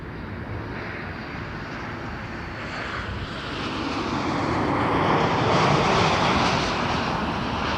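A Sunwing Boeing 737 Max 8 takes off at Toronto Pearson, its engine roar a broad, steady rush that swells louder over the last few seconds, with no voices over it.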